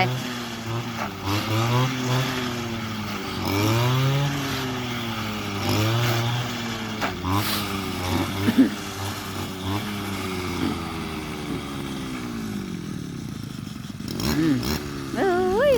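A small engine drones and revs unevenly, rising and falling in pitch like a motorized grass trimmer running nearby, with a voice speaking over it.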